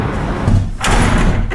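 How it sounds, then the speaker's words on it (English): Door being opened, a rough sliding scrape with a thump partway through, loud and close over steady background noise. "It's time to open the door."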